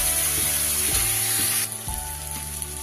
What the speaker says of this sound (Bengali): বেশ 3 থেকে 4 মিনিট ধরে পেঁয়াজ আর চিংড়ি কিন্তু খুব ভালো করে কষিয়ে নিয়েছি